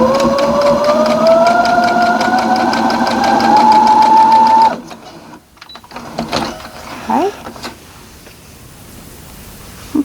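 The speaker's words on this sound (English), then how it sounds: "So I'm going to sew these 2 units first and then attach everything" A sewing machine hums loudly and steadily for about five seconds, stitching pieces of a quilt, then stops, followed by quieter fabric handling and small clicks.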